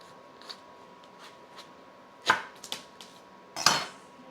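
A knife cuts into a roadside-bought fruit, giving a couple of sharp, close slicing crunches against a quiet background with small handling taps.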